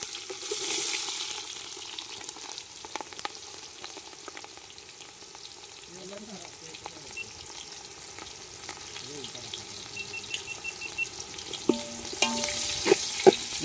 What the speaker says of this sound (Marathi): मित्रांनो आता कांदा पण टाकतोय